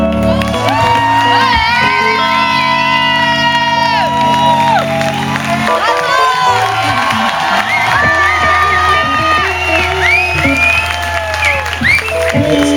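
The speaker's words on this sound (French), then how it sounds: "Je vous demanderai d'applaudir très très très très très fort Morgane, notre régisseuse, s'il vous plaît." A theatre audience applauds, cheers and whoops loudly and continuously over music, with a few shouts rising out of the crowd.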